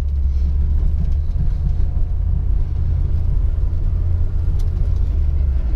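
A 1969 Lincoln Continental with its 460 engine rolls slowly at about 15 mph, a steady deep low rumble heard from inside the car with no talk over it.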